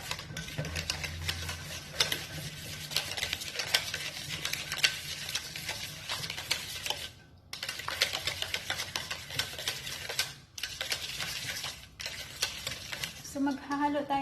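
Rapid, steady whirring and clicking of a mixer beating cheesecake batter, running in long bursts broken by short pauses, close and fairly loud, with someone talking at times.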